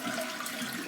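A toilet flushes after its water supply is shut off for a flapper replacement, giving a brief, faint, close rush of draining water.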